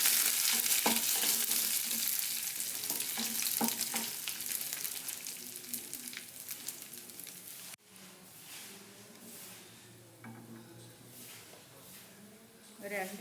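Chopped onion and curry leaves hit hot oil in a pan, a bright loud sizzle that fades and softens partway through, with stirring clatter and a voice speaking over it.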